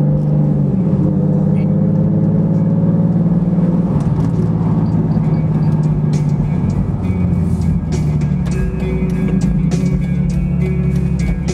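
A car fitted with a Horse Power Freaks stage 2.5 kit and stage 2 clutch drives through town, its steady engine drone running continuously with light shifts in pitch and road noise, close and moderately loud, no talk.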